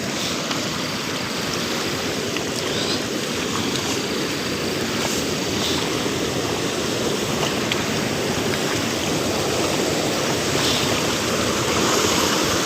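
Water rushes steadily through a channel beside a river at night, a continuous close broadband wash that never lets up.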